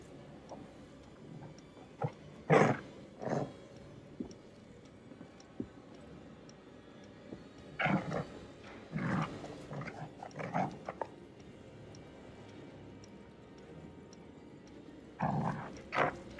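A dog in the horror game The Devil in Me gives several short gruff growls and barks in scattered bursts over a quiet, tense backdrop.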